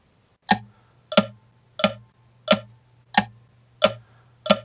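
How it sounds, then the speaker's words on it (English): A clock ticks alone in a quiet room, seven crisp, evenly spaced ticks about two-thirds of a second apart over a faint low hum. "Imagine you're the clock, tap along with the clock."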